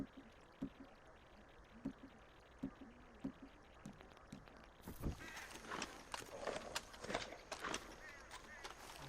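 Horse hooves clip-clopping in Red Dead Redemption 2, a steady rhythm of soft thuds in the first half, then a louder, busier stretch of movement and noise.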